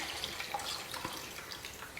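Water pours into a mixer jar in a light, steady trickle with small splashes and drips, close by and fairly quiet.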